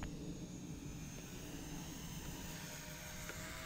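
An Eachine Spitfire or P51D Mustang RC plane fitted with a triple-blade prop flies in windy conditions, a thin steady electric motor whine heard from a distance over wind noise.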